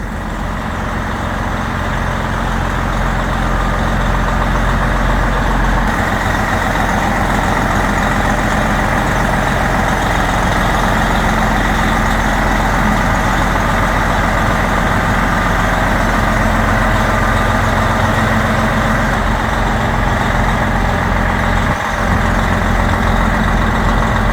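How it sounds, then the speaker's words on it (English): A semi truck with a Detroit diesel engine idles and backs out on a farm ahead of grain hauling, a loud, steady low rumble running close throughout with no talking. "So we're gonna back this truck out,"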